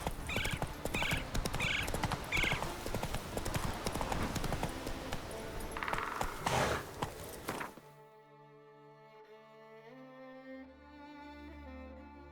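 Roach, Geralt's horse in The Witcher 3, runs with loud, rhythmic hoofbeats and a few short whinnies, then the galloping stops and soft game music takes over.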